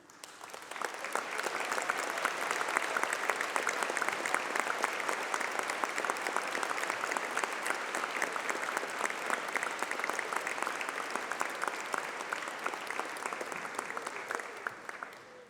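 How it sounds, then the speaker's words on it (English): A large audience at a UCLan university graduation ceremony applauds former course reps and school presidents, with sustained, dense clapping from many hands that swells and then tapers off, no speech over it. "please stand up while we give you a round of applause"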